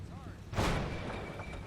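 Artillery fire in a military video game mission set in Narva: one heavy blast bursts out near the middle of the clip and fades into a rumbling tail, after a short sweeping whistle.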